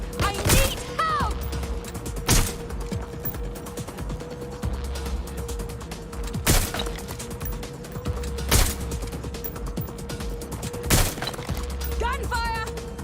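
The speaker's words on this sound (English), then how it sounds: "Gunfire!" In Watch Dogs: Legion, repeated loud gunshots crack out at irregular intervals over a steady electronic hum, with game sound effects and mechanical clicks between bursts.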